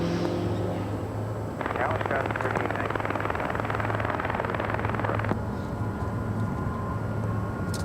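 Jet engines roar as an Aeromexico Boeing 737 MAX 8 takes off from LAX runway 24 left, a steady loud rumble that surges for several seconds and then eases, with a person talking over it.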